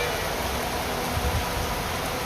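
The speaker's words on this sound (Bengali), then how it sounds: "বছরের প্রথম বৃষ্টি।" First rain of the year falling as a steady, even hiss of rainfall, close and continuous, with a few soft low thumps mixed in.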